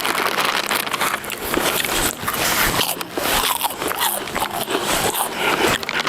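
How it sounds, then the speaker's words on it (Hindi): Someone bites into and chews crunchy Kurkure, a low-budget snack eaten while camping outdoors, giving loud, continuous close-up crunching and crackling for several seconds. "और हमें जो लो बजट में मिले थे कुरकुरे, ये खाते हैं।"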